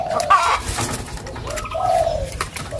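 A dove gives two low, soft coos a moment apart, close and clear against faint background noise.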